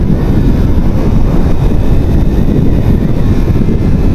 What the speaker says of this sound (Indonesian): cruising di gigi 3 dengan high RPM, getarannya nggak terlalu lebay gitu loh